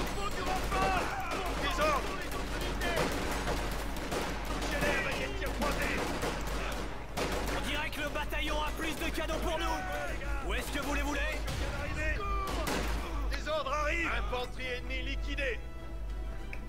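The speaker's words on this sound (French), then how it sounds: "Mitraillage au sol." Ground strafing in the Company of Heroes 2 Ardennes Assault campaign brings dense, continuous gunfire and battle noise, loud and unbroken for the whole stretch, with game voices mixed into the din.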